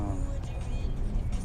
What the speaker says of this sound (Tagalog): matraffic na yan dito sa LA Airport